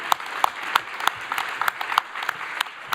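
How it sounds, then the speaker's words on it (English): Conference audience at a speed debate applauding winners, a moderate round of clapping with distinct loud claps popping out of a dense background, steady throughout. "Give them a round of applause"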